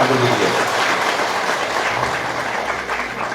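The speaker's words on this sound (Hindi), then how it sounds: "एक जोरदार ताली नितिन गडकरी जी के लिए" Loud, sustained crowd clapping from an audience at a women's wing political rally in Kotkhai, Himachal Pradesh, a continuous roar that tapers slightly toward the end.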